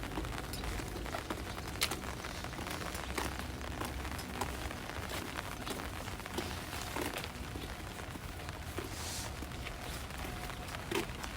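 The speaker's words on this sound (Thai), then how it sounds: "ฝนตกนะคะ" Steady rain patters on a surface nearby, with scattered heavier drops ticking through a constant soft hiss.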